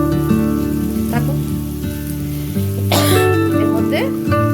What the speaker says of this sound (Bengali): এবার কি করা হচ্ছে, ভাজা ভাজা হচ্ছে জিনিসটা।